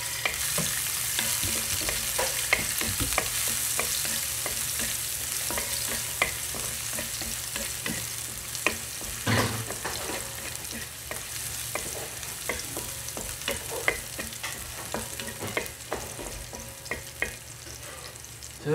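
Garlic sizzles in oil in a pan for beef giniling, a constant bright frying hiss close by with frequent light stirring scrapes and ticks over a long stretch, no talking.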